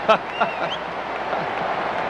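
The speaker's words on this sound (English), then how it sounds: "I don't know what you can do about the crowd noise, Keith" A steady, loud roar from a packed stadium crowd at the 1981-82 Sugar Bowl football game between Georgia and Pittsburgh, continuous throughout with a brief sharper burst near the start.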